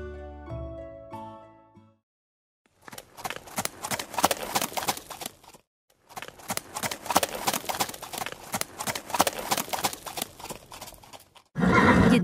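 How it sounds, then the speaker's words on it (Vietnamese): Cartoon horse whinnying loudly, then two long runs of steady clip-clop hoofbeats separated by a short pause, with a burst of noise at the end; no talking over it. "Nhìn xem, con ngựa đã lấy lại được phong độ rồi."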